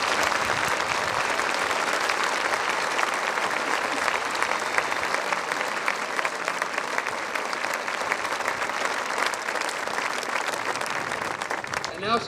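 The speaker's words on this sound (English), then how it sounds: "So how about giving all of these young people a big round of applause too?" A large outdoor crowd at a D-Day 75th anniversary ceremony at the American Cemetery at Omaha Beach applauds young participants with sustained, dense clapping that holds steady and then tapers slightly, heard from within the audience.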